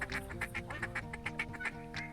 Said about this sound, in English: Alright, we have some ducks coming right in.